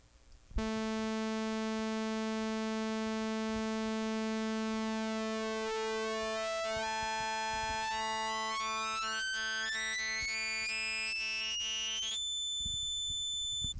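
A bright, buzzy sawtooth tone from the Serum software synthesizer sustains loudly and evenly, its overtones sweeping upward partway through before settling, with no voices.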